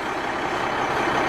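Interior cab noise of a 1998 Freightliner truck with an 8.3 Cummins diesel, a steady moderate drone of engine and road hum with broadband whoosh, constant throughout and without speech.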